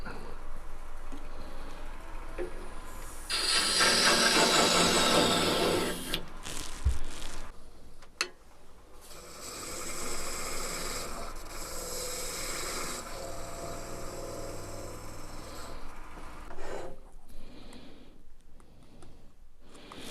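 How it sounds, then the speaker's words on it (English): 180-grit sandpaper rubs a wood-turned ball box shell spinning on a lathe, giving a loud sustained hiss that fades, returns in shorter stretches and ends in a few brief scuffs. "I sanded out the facets that are going to be too close to the chuck to sand"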